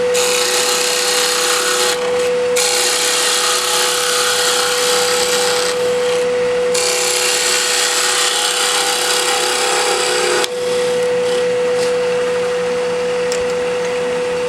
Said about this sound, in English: Don't have an Ellsworth, let's bring out the fingernail gouge.